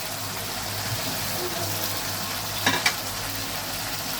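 Spices sizzle steadily in hot oil while being stirred for a cauliflower and potato curry, with a constant close frying hiss and a couple of sharp utensil clinks against the pan near the end.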